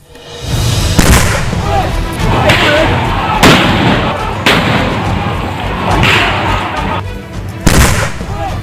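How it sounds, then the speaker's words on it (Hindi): Sharp loud bangs of gunfire and tear gas shells ring out every second or so against a constant crowd roar, with voices shouting throughout. "आंसू गैस के गोले छोड़े जा रहे हैं, गोलियां चलाई जा रही हैं।"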